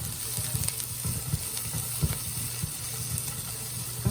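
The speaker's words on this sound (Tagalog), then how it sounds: "Gisal ang atong sibuyas bombay." Onion, garlic and spring onion sautéing in a hot pan, a steady close sizzle and hiss with soft scraping stir knocks scattered throughout.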